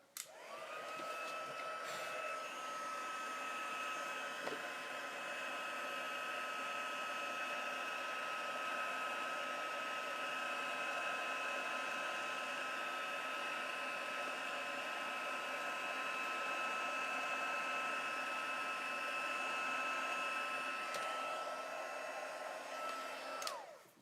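Heat embossing tool blowing hot air over a Christmas wreath card, a steady, close whirring blower hum that switches on and runs unbroken for over twenty seconds before cutting off, with no voices.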